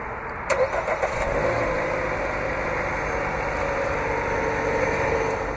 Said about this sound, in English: this vehicle is equipped with remote start. To activate, just double press the remote start button on the key fob.